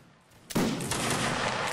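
A musket volley crashes out during a Napoleonic Wars line battle in Mount and Blade, a sudden loud burst of gunfire after a quiet moment, followed by rolling, sustained crackle.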